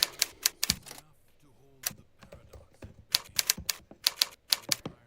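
Close, quiet typing on a keyboard in uneven bursts of sharp key clicks, with brief pauses and a soft murmur in the gaps.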